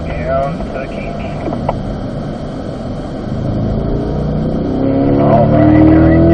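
A Corvette accelerates down a race track straight toward a kink during an owners' driving school, its engine note rising and building steadily louder over several seconds as the car gathers speed.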